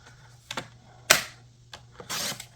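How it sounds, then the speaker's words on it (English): A paper trimmer slices a sheet of cardstock in half with a few sharp clacks and scraping swipes of the blade, close and fairly loud, with no talking. "trimmer in because I want to cut this one piece"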